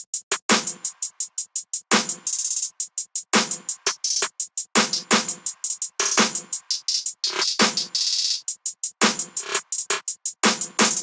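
A programmed snare hits plain, evenly spaced notes, then shifts into quick rattling rolls in the second half, all over a fast ticking hi-hat groove.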